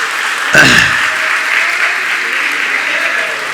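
Audience clapping at a talk on happiness, a steady wash of applause running through the clip, with a brief sharp sound near the start.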